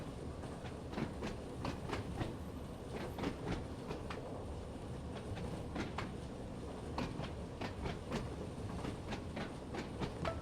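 A train rolling along the track in Train Sim World 2, with steady rumbling and a rhythmic clickety-clack of wheels over rail joints repeating throughout, moderately distant and without talk.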